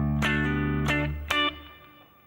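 Electric guitar with effects plays a pre-chorus phrase from a song: three strummed chords ending in an octave upstroke that rings and fades, played alone and close.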